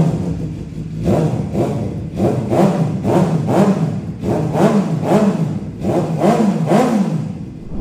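A Suzuki GSX-R 750 motorcycle revs its exhaust in a string of rhythmic throttle blips, loud and close, each rising and falling in quick succession.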